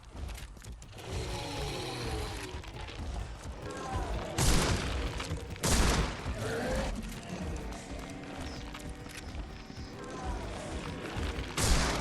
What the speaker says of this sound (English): He just fucking exploded.